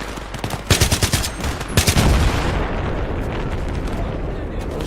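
Rapid automatic gunfire in the Battlefield 3 campaign, a dense burst of loud cracking shots followed by a booming rumble that fades into steady background noise.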